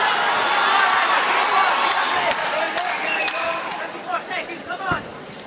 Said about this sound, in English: the crowd letting Wojtas know they are right behind him